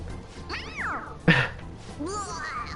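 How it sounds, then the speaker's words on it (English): A cartoonish cat meows in Persona 5 Royal when its head is pressed, with two or three rising-and-falling mewing calls separated by a sharp thwack, set over game background music. "It meows when you press on its head."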